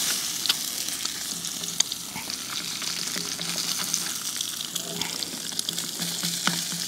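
Eggs fry in a pan with bacon, giving a steady, fairly quiet sizzle and crackle with scattered small pops and an occasional scrape, with no talking.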